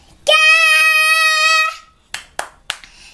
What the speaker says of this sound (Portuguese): Tchau, palmas. Palmas, palmas.